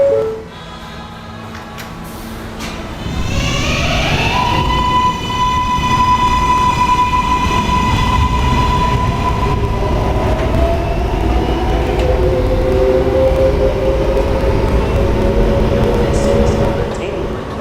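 An underground K train runs along its route with a loud, steady rumble, while rising motor whines and tonal squeals glide upward and hold for several seconds, close and continuous.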